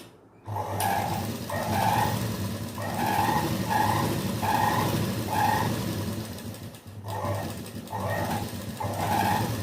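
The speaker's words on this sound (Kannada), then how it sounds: "ಇವಾಗ ಸ್ಟಿಚ್ ಮಾಡ್ಕೊಂಡು ಬರ್ತೇನೆ ನಾನು" Sewing machine stitching a patchwork blouse, a close, loud motor whir running in repeated short bursts with a rhythmic mechanical chatter, briefly pausing near the end before resuming.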